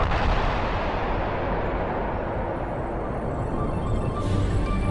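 An atomic bomb test explosion in the desert, heard as a loud, sustained deep roar and rumble that fills the whole stretch without letup and no talk.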